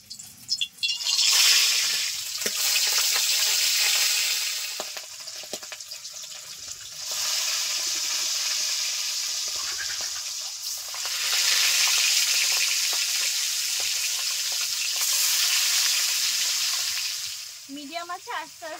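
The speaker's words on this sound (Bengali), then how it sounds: "তেল গরম হয়ে গেছে, মাছ ভেজে নিচ্ছি।" River fish fry in hot oil on a medium flame, a steady close sizzle that swells and eases in long waves, with a few splashes and clinks near the end.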